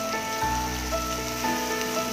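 Yardlong beans fry in a pan for prawn fried rice, giving a soft, steady sizzle that crackles quietly throughout with no voices.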